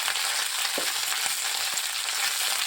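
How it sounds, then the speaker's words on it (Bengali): Potatoes frying in a pan with helencha greens, papaya and eggplant, giving a steady, dense sizzle and crackle throughout with a few faint stirring knocks. "আলুটা দিয়ে আমি একটু একটু ভাজা ভাজা করে নিচ্ছি আলুটাকে"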